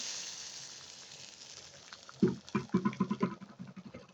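Fried onion tempering is tipped into masoor dal with Malabar spinach, set off by a short run of sharp, rhythmic bubbling pops over a soft background hiss.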